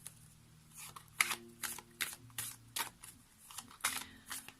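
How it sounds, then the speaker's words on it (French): Oracle cards from a plant-themed deck are shuffled by hand for a reading, giving a run of soft, crisp riffling bursts in an irregular rhythm, close and fairly quiet with no talking. "on va finir avec une carte pour compléter notre tirage"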